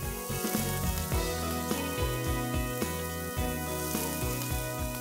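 A tuna steak sears in a hot pan with a steady, dense sizzle throughout, close and continuous, with no talking.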